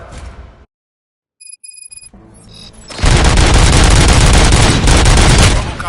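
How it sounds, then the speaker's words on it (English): Gunfire erupts in the RoboCop Rogue City video game after a quiet stretch broken by a few electronic tones, becoming a loud, sustained burst of rapid shots and booms that fills the final three seconds. "Gunshots? What's going on?"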